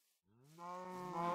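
Cows in the video game Minecraft give a long, drawn-out moo that rises and swells, with a second overlapping moo joining in close and loud.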